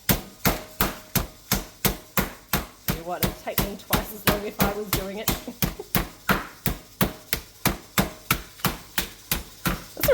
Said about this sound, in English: So I just hammer it out.